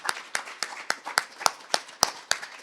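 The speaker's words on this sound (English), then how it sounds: "Can we get a round of applause for these folks?" Sparse, slow clapping from a small audience applauding founders at a talk, about ten distinct claps in an even rhythm, fairly faint and close.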